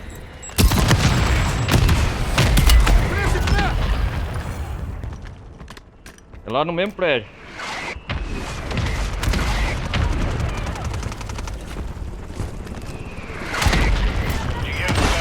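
Gunfire and booming blasts in the Call of Duty Warzone video game, irregular shots and explosions scattered under nearly continuous excited talk, with a louder burst of impacts late on.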